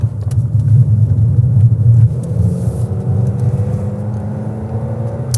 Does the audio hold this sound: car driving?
yes